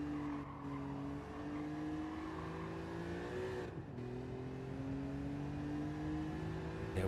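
Race car in a racing game braking for turn 1, a steady engine drone that dips in pitch as the car slows, with a short dip midway, fairly quiet and without talk.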